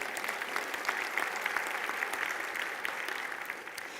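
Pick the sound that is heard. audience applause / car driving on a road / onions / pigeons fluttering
audience applause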